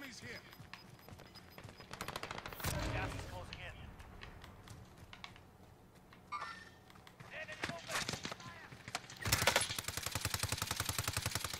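Automatic gunfire from a weapon with heavy recoil in the Warzone battle royale shooter, bursts of rapid shots rising loudly near the end, with someone talking over the game audio in between.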